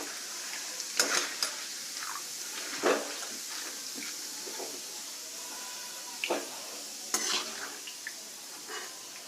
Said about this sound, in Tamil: இப்போ நான் பொட்டுக்கடலை போட்டுக்கிறேன்